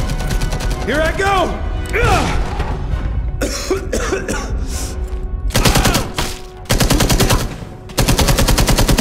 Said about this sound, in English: Take out that MG!